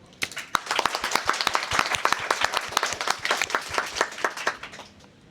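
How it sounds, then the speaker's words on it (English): A small group clapping steadily for several seconds at a game jam award ceremony, sharp individual claps close by, no voices. "Huge applause for Nico."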